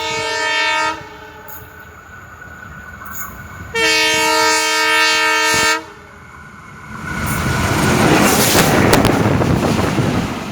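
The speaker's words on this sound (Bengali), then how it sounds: "এই মুহূর্তে ট্রেন আসতেছে" Two long, loud blasts of a train horn, then a rising roar and rush of wind as a train passes close by.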